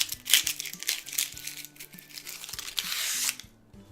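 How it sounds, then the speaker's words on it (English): Loud, crisp crinkling and tearing of dry, papery onion skin being peeled off in several close bursts, with faint low thumps underneath. "They have this really nice parchment skin that's super loud and crinkly when you take it off."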